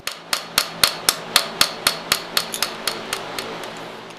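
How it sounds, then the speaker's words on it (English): Light hammer taps set rivets on a hand-forged steel sliding bolt latch, about fifteen crisp metallic strikes at a steady, quick rhythm, growing slightly softer toward the end, with no voices. "You want to use very light hammer blows while you're setting the rivets."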